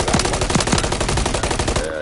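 Rapid automatic gunfire in Call of Duty Modern Warfare 3, a loud, dense stream of shots in quick regular bursts that runs almost the whole time before easing off at the end.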